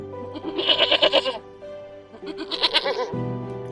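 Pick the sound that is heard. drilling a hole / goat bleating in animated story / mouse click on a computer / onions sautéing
goat bleating in animated story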